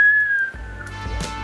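A person whistles a sustained, steady high note alone for about half a second, after which the tune carries on more softly under a low background rumble.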